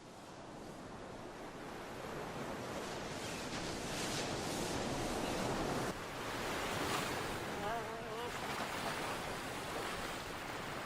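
Ocean waves breaking along a coast, a continuous roaring surf wash that swells and recedes, with wind noise across the microphone throughout.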